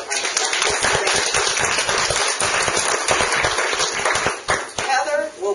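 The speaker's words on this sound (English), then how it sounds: "So let's give a round of applause to all of our staff." A small group gives a round of applause for university staff at an academic meeting, close, dense clapping with sharp individual claps that sustains for several seconds before tapering off.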